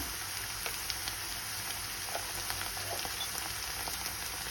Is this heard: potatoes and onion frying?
yes